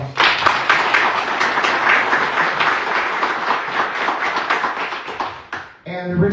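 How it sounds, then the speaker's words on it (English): An audience gives a round of applause at an event announcement, with brisk, dense clapping from a sizeable crowd that swells and then fades before a voice resumes speaking. "just please just give those folks a round of applause"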